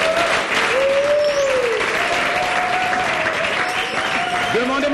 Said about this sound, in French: Qu'on fasse du bruit, on applaudit très fort pour Patrice Emery Lumumba.